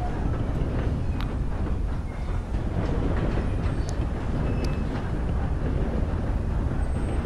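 A train rolling along rails in the video game Red Dead Online, a dense continuous rumble with steady rolling noise and a few faint metallic squeaks, loud and unbroken.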